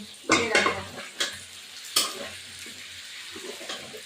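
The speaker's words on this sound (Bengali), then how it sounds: "ভাজা হতে দেবো।" Chicken pieces for chicken rezala fry in a hot pan: a low sizzle runs under a few loud, close clanks and scrapes of a utensil stirring against the metal, with no talking.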